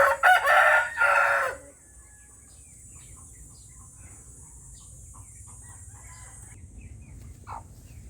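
A Rhode Island Red chicken of the show type crows loudly and close for about a second and a half. Faint scattered clucks and bird chirps follow over a quiet farmyard background.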